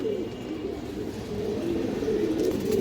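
Pigeons coo softly and repeatedly in a loft full of young birds, their low murmuring rising slightly toward the end, with no voices heard.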